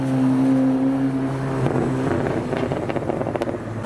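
A blue Aston Martin DB11 driving past on a London street, its engine note rising from a steady hum into a louder, rougher roar as it nears, with wind buffeting the microphone.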